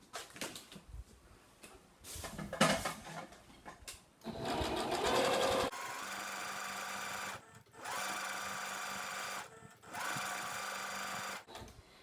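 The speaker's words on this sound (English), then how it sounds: "I'm going to sew along the original hemline that from the manufacturer" A sewing machine stitches along the original factory hemline of jogger pants to form a cuff, running in three sustained whirring bursts separated by short pauses, close and steady.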